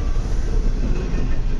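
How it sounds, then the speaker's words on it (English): Deep, heavy rumbling of a train passing a city park, nearby and loud, a short, unbroken stretch of rolling wheels and rattling cars. "Train goes by several times a day,"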